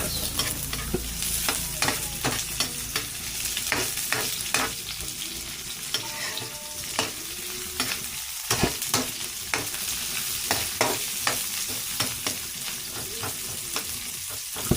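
Onions sizzle steadily in a hot pan while a utensil scrapes and stirs them in frequent sharp strokes, the frying hiss continuous underneath throughout.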